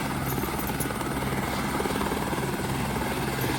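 A helicopter giving rides at the Visakha Utsav beach festival in Visakhapatnam drones with a loud, steady rotor and engine roar that fills the whole stretch, close by and without talk.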